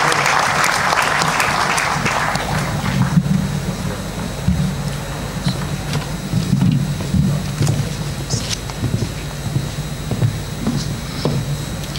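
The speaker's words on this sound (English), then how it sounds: "let's give a warm round of applause" A hall audience at the IIM Raipur annual convocation applauds the chief guest: a loud burst of crowd clapping for about three seconds, then fading into quieter room noise with scattered claps.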